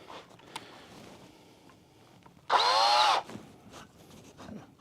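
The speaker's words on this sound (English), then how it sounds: "I'm going to run a couple of screws into the side" A power drill drives a screw into a wooden board for a beehive stand, one loud whirring burst of under a second, with quieter handling clicks and knocks before and after.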